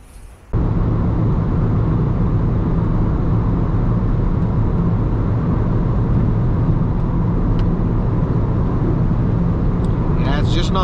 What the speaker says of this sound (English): Yeah, it's just not a fast car.